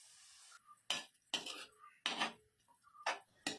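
Spoon stirring yogurt into biryani masala in a metal pan, several distinct scraping, clattering strokes with short pauses between, close and fairly quiet.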